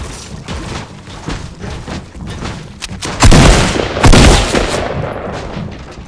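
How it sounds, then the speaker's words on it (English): Fortnite gunfire, a rapid run of sharp shots followed by two heavier bursts close by, loud against a busy game background. "Are you shooting?"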